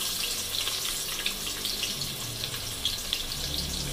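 Chopped medium onion with cumin seeds, green chillies, a small cardamom and star anise frying in hot oil in a pan, a steady close sizzle with a broad hiss and faint crackles running throughout, no voices.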